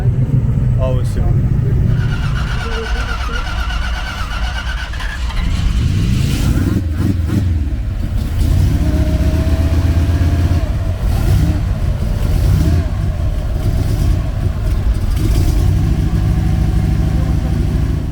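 A turbocharged BMW E46 roars at a drag race, its engine loud and sustained with rising revs and road noise, while voices talk over it.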